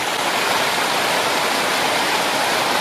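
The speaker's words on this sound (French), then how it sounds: "le ruisseau ici qui découle" A stream near Lac Mégantic flows steadily and close by, a dense unbroken rush of water with no voices over it.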